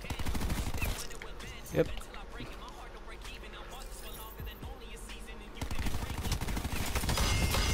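Rapid SMG gunfire from Black Ops 4 multiplayer, dense bursts at the start and end with quieter gaps between, a voice speaking briefly over the shooting.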